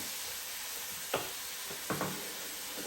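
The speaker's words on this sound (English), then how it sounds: "Let that cook for a minute. Stir that up nice and good like that." Cabbage and sausage sizzle steadily in a pan, a constant close hiss broken by two short scraping bursts as a utensil stirs the mix.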